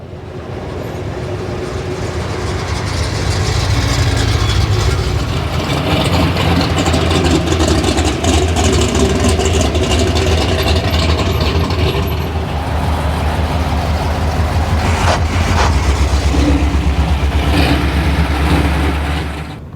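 A Chevrolet SS 396 Nova V8 rated at 375 horsepower, with a four-speed, idles at a Las Vegas Motor Speedway car show. The engine gives a loud, steady low rumble throughout, with faint mechanical clatter and crowd noise around it.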